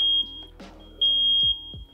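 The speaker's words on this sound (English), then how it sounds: "Now you'll hear the alarm, and you'll see the light also flash" A piercing, high-pitched electronic alarm tone from a Netatmo home sensor's test button sounds, cuts out briefly and resumes, with a few low knocks underneath.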